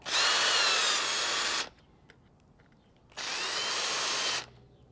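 A power drill drives screws down on a plastic RV water tank, whirring loudly in two sustained bursts of a second or more each, separated by a quiet pause, close by with no talking.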